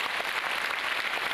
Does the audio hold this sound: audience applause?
yes